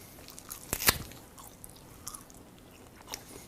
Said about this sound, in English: I could sit here and chew on this bone for a good 15-20 minutes